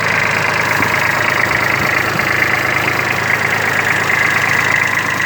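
The small three-cylinder diesel engine of a Kubota A-175 Aste Japanese mini tractor idles steadily and close, a continuous even rumble with a faint knocking pulse and no voices.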